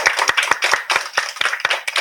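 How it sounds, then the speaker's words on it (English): A group claps hands in applause at the end of a classroom math challenge, brisk, uneven and fairly loud, with no talking. "Let's give ourselves a round of applause for today's math challenge."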